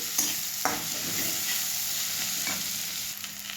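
Slit green chillies fry in oil for a boiled potato curry as a spoon keeps stirring them, giving a steady close sizzle broken by several sharp scraping strokes against the pan.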